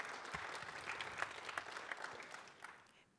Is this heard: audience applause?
yes